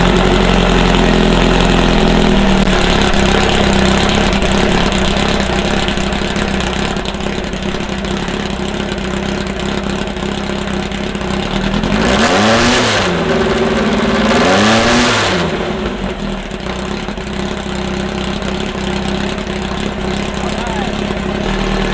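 A freshly built 2276cc VW dune buggy engine runs for the first time, holding a steady loud idle with two sharp revving bursts partway through, while people talk nearby.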